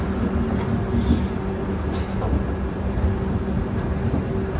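The Shri Ganganagar–Kochuveli Express pulls into a station, heard from inside the train as a steady low rumble and rattle of the carriages with no voices.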